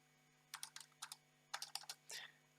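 Keys clatter on the keyboard of a Sharp PC-7100 luggable portable XT 8086 computer running DOS, in short irregular bursts of crisp clicks separated by pauses, close and fairly quiet against a steady electrical hum.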